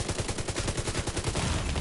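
Rapid automatic gunfire in The Division 2, a dense continuous stream of shots with no gaps, loud and close, no talk.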